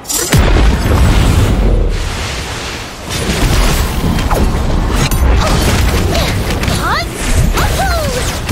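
A charged sniper shot detonates in Honkai Impact 3rd as part of Kiana's Herrscher of Finality attack, a loud sustained roaring blast with crashing debris and whooshing effects, overlaid with game voice lines.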